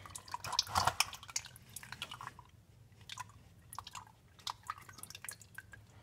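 Engine oil from a Toyota Prius C drains into an oil pan with faint dripping and splashing in irregular bursts, one louder gush near the start, over a quiet background.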